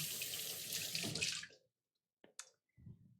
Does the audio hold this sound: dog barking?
no